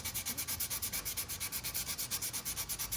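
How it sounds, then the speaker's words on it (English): Rapid rhythmic sanding of cured resin on a wake surfboard, close and steady, a gritty back-and-forth rasp repeating several times a second with no voices. "it sands off pretty easy"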